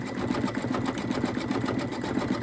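A machine embroidery unit stitches an Easter bunny appliqué, giving a steady, fast, loud mechanical whirring and clatter close by that continues without a break.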